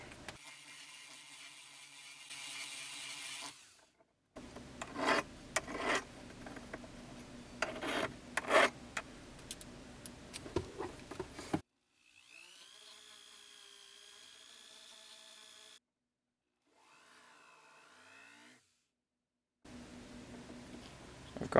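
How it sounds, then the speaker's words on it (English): A power tool grinds a 999 silver coin being shaped into a signet ring, its whine broken by gaps and by the scraping rasp of the tool against the metal, then a higher, steadier spinning pitch. "I'm going to grind this down with some power tools."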